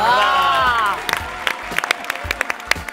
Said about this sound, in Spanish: Fuerte el aplauso para este team que lo dio todo una vez más